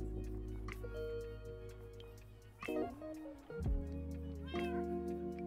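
A Minecraft cat gives a couple of meows over sustained background music, with light ticking and no talking.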